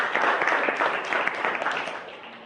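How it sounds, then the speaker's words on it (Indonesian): Students in a classroom clap for a presenting group, a short burst of moderately loud applause that fades slightly at the end. "beri tepuk tangan untuk kelompok 2"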